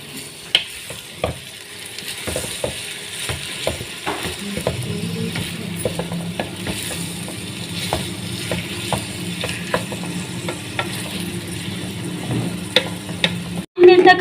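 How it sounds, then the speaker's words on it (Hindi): Aloo keema fries in oil while a spoon stirs it: a steady, close sizzle runs throughout, broken by repeated scraping and clattering strokes against the pan, with no talk. "और हम इसके अंदर ऑयल के अंदर 5 मिनट तक इसको फ्राई करेंगे"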